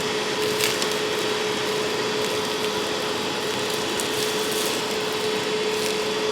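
A Hoover WindTunnel self-propelled upright vacuum cleaner runs continuously with a steady whine and a rushing roar of airflow, loud and close. A faint rattle of debris is audible and no one speaks.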